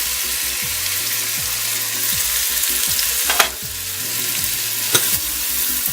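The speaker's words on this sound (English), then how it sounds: "I'm going to add my onion into it now and let it cook." Chopped onion frying with garlic in a pan for palak paneer, a steady close sizzle with occasional stirring scrapes and clicks, no talking.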